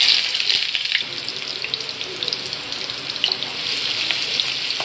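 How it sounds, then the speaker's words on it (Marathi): Crushed garlic and onion fry in hot oil in a kadai as a steady, loud, close hiss and crackle, with no talking, while a traditional Malvani-style chicken curry is being prepared. "कांदा लसूण मस्त परतून झालेली आहे"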